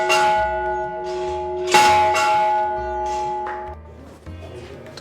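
A large temple bell at a temple in Dhamtari, ringing loudly with repeated strikes that leave a sustained, resonant ringing hum between them and decay over about five seconds.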